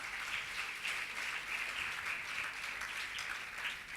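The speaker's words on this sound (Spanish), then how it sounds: "¿Cuánto le dan un aplauso a Jesús?" A church congregation applauds for Jesus, a steady wash of many hands clapping at moderate distance, sustained and even throughout with no voices standing out.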